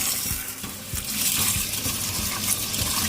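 Lentils are washed by hand in water, giving close, continuous sloshing and splashing with rhythmic swishes as the grains are swirled around.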